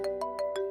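A phone ringtone plays a steady electronic melody with regular repeating pulses, close and clear, with nobody speaking.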